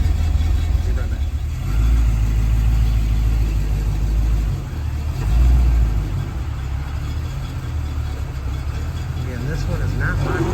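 A G-body Chevrolet Malibu Landau pulls away with a low engine rumble, revs swelling twice over a steady idle-like drone, with people talking nearby throughout.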